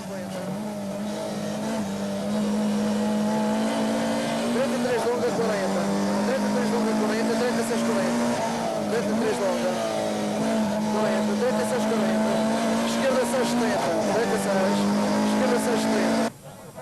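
Onboard a Toyota Corolla rally car on the 1990 Rali Vinho da Madeira, the engine drones loud and close, its pitch rising and falling through gear changes, and a co-driver's voice calls pace notes over it before the sound cuts out at the end.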